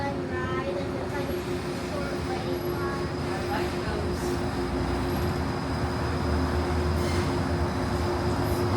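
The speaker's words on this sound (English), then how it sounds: "welcome aboard the Disneyland Monorail" Steady rumble and hum of the Disneyland Monorail heard from inside while riding, with a continuous low drone and a faint high whine that stays even throughout.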